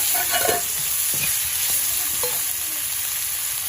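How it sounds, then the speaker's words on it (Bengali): Spice paste with turmeric and two chopped tomatoes sautéed in a pan for a village-style vegetarian lentil cake curry, a steady oily sizzle with several distinct stirring scrapes early on, no talk. "মশলাটা খুব ভালো করে কষিয়ে নেব। আর এর মধ্যে 2টো টমেটো দিয়ে দিলাম, কুচি করে রেখেছিলাম।"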